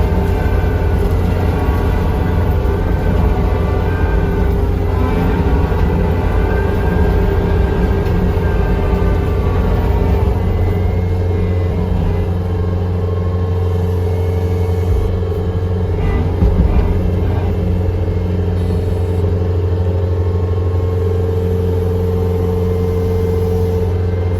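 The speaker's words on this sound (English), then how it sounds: "The skid loader handles it pretty well." A skid loader mows a wet food plot, its engine holding a steady, close, low droning hum with a tonal whine for the whole stretch and no speech.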